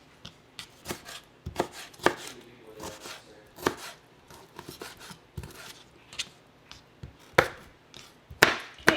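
Roma tomato being diced on a cutting board, irregular sharp knife chops close by, some in quick bursts, with no talking.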